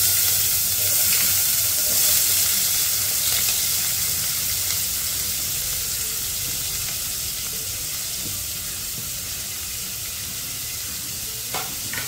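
Onions fry in a pan over a moderate gas flame in a Goan home kitchen, a steady, close, dense sizzle that holds evenly for the whole stretch, with faint stirring scrapes now and then.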